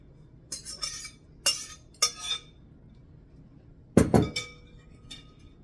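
Chopped cabbage is dumped from a bowl into a casserole dish, making a few separate glassy clinks and knocks. A louder rattling clatter comes near the end, with quiet pauses between the sounds.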